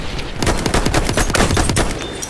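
Sustained rapid machine-gun fire from the video game Battlefield 1, a dense rattling burst of shots running the whole stretch, loud and close.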